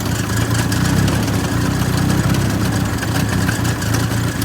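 The engine of a Toyota Wolverine, with its fuel just turned down, runs at a loud, close, steady idle, with a continuous low rumble and no speech.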